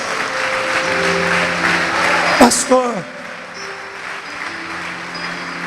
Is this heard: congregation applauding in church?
yes